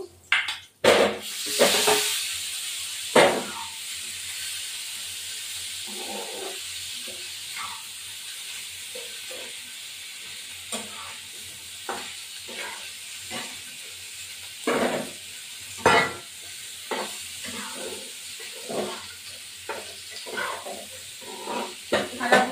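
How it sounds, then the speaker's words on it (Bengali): Potatoes fry in a pan for a duck-egg curry, a soft continuous sizzle and hiss broken by scattered spatula scrapes and taps, with a louder burst of sizzling at the start and no talking. "আলুগুলো ভাজা হয়ে গেছে, তুলে ফেলবো"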